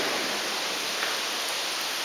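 Heavy rain pours in a steady, dense hiss at close range, constant and unbroken with no voices.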